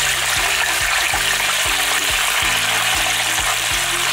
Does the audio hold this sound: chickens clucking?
no